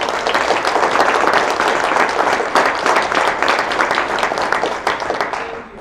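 Audience applause at a school district reading event, dense steady clapping from a crowd that holds strong and then tapers off near the end.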